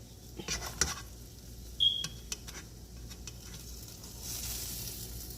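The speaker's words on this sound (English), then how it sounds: "You hear that sizzle from the butter." Soft sizzling of butter in a frying pan hums steadily in the background, with a few light clinks of a utensil and no talking.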